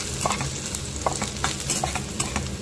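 Green chillies and cashews frying in hot oil while being stirred, a steady sizzle with scraping stir strokes for a vegetable palya.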